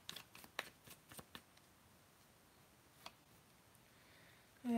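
Tarot cards riffled and drawn from a deck, a quick cluster of faint crisp flicks and taps up close, then mostly quiet with a single later snap.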